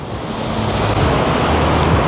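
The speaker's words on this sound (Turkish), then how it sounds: "Su bayağı dalgalı. Pek yüzülecek gibi değil" Rough ocean waves break on a tropical island shore, a loud, continuous roar of surf with some wind rumble and no voices.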